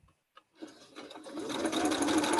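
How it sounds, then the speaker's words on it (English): Sewing machine running steadily as quilt block sets are stitched together down one side, starting after a couple of small clicks and building into a continuous close whir. "you sew all 4 of those sets"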